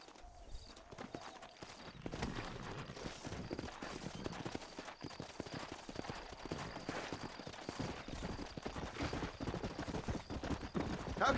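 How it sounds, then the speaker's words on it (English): Horse hooves clip-clopping in the Western video game Red Dead Redemption, a rapid steady rhythm of hoofbeats that grows slightly louder over time, with faint ambient game sounds underneath. "Horses are over here!"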